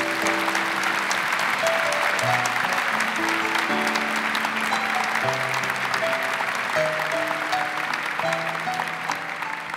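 A church congregation breaks into sustained applause, a dense, steady clapping that stays loud for the whole stretch, with steady musical tones beneath.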